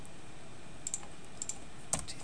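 Light keyboard typing and mouse clicks while working in an Excel spreadsheet: a few soft, sparse taps and clicks at close range over a quiet room hum, with no talk.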